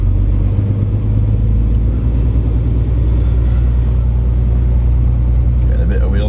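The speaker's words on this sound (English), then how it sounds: "Getting a bit of wheel spin" A flatbed truck driving on a road in North Yorkshire while its wheels briefly spin, heard as a steady, loud, low engine and road rumble that continues without a break throughout.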